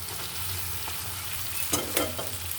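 Noodles stir-fried in a pan give a soft, steady sizzle, with a couple of brief scraping stirs near the end, quiet and close.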